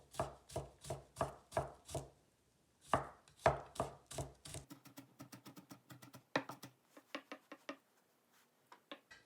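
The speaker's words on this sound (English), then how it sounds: "Let's start by crushing the garlic." Garlic being crushed and chopped with a knife on a board for a Chinese mussels dish: sharp, close knocks, first in heavy bursts, then a fast, lighter rapid patter of chops.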